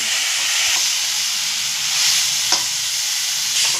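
Spice paste with ginger sizzling in a pan for a bacha fish curry with pointed gourd and potato; a loud, steady frying hiss with a small clink or two from stirring.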